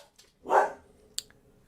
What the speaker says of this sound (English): the dog found the mailman.